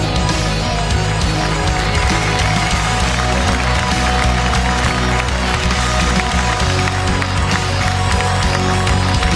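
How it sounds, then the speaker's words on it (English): Audience at an esports tournament, IEM Cologne at Gamescom 2011, breaks into loud sustained applause and crowd noise, dense clapping filling the hall throughout. "Yes, yes, a big round of applause,"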